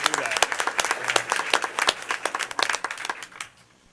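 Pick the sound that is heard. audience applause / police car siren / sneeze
audience applause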